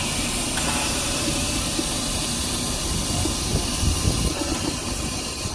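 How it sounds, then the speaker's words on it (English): A real steam engine train at Knott's Berry Farm, one that leaks water, gives off a steady, loud broadband hiss of escaping steam, with low rumbling and clanking beneath it. "Now here's the Knott's Berry Farms train. Real steam engine."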